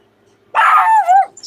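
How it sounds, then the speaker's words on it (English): A single loud, close dog bark, sharp and drawn out into a brief second yelp, standing alone against a quiet background. "Good Lord, you got a loud bark."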